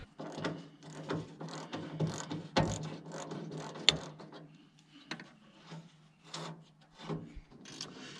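A ratchet wrench clicks in repeated bursts of fast ratcheting while working on a panel of a CAT 955K track loader, close and moderately loud with short pauses between strokes.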